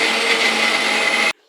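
Tomato pieces whir in a blender as they are pureed, a loud steady close motor drone that cuts off abruptly after just over a second.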